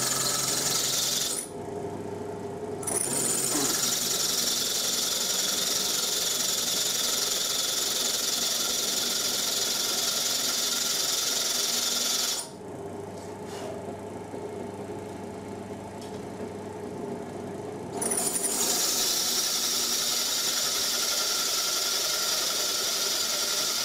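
An old Soviet drill runs continuously in a knife-handle workshop with a harsh, gritty whir. Its tone drops twice as the load changes, then returns to the bright running sound.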